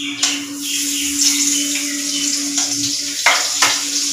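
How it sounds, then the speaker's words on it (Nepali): Butter sizzles steadily in a hot kadai for palak paratha, a continuous close frying hiss with a few soft clinks and stirring sounds. "क्विक तेल, कराही गरम, बटर हाल्नुपर्छ"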